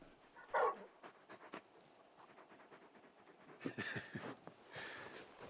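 A large dog in Final Fantasy XVI pants and whimpers in quiet bursts, soft breaths punctuated by a few louder huffs over low game ambience.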